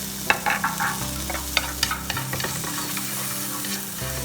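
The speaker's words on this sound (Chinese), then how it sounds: "打散之后，我们就放入我们刚才切好的火腿丁。" Diced ham stir-frying with beaten egg in a wok for simple home-style egg fried rice: a steady sizzle broken by sharp scraping and clacking of the spatula, close and fairly loud, with no voices.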